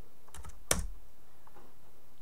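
One sharp, close keystroke as the F8 key is pressed on a computer keyboard, with a couple of faint key clicks just before it and low room hum.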